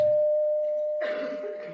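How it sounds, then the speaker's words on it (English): A single bright quiz show bell tone on a radio broadcast rings out and sustains steadily, fading slowly as a burst of crowd noise rises beneath it. "the bell is tolled"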